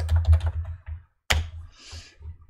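Computer keyboard keys clack in quick close bursts as a semicolon macro is recorded in PhpStorm, a run of taps, a short pause, then a sharp single press followed by softer typing.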